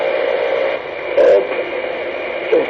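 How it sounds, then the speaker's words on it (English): Power supply cooling fan running constantly as a steady hiss and hum underneath, with a couple of brief louder bumps partway through. "Does the power supply really need that fan on though?"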